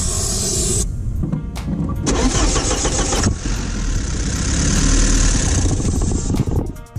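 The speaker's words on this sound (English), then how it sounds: "We're gonna start the car." An abandoned Porsche 944, left standing for years, cranks and fires up, then settles into a loud, close idle with the engine note rising and falling, and brief revving breaks near the end.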